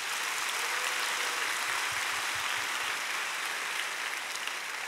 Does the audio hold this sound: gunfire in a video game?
no